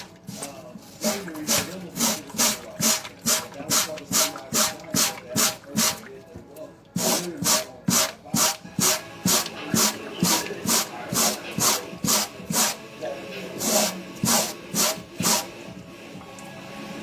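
Dollar Tree grill cleaner brush scrubbing a Nike Air Force 1 low sneaker, quick rhythmic back-and-forth rasping strokes close up, pausing once around the middle before continuing at the same steady pace.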